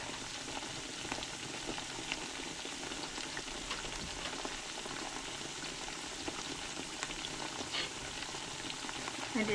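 Thinly sliced liver and onions fry in a pan, a steady dense sizzle running throughout with faint scraping as pieces are turned over, close and fairly loud with no talk.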